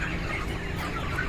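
Broiler chicks on a poultry farm give a dense, continuous chorus of clucks and peeps, loud and close, with no talk.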